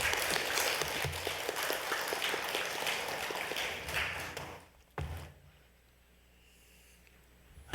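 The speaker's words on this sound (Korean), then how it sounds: "큰 박수로 모시겠습니다." An audience at an academic conference applauds warmly, a dense patter of clapping that fades out around five seconds, followed by a quiet room with faint rustling.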